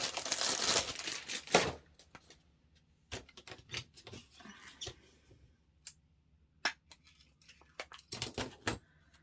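Cellophane packaging crinkles loudly at the start during a paper craft session, followed by scattered shorter crackles and rustles that come and go.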